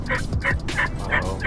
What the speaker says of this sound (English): We got a turkey in the back too.